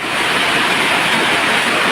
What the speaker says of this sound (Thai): ฝนกำลังตกเลยที่บ้านสวนริมคลอ